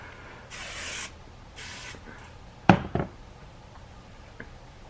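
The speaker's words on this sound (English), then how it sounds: "I'm just going to take the Sexy Hair Texture High Tide Texturizing Spray" A few short hissing bursts of Sexy Hair High Tide texturizing spray, fairly close, followed by light knocks and handling clicks in an otherwise quiet room.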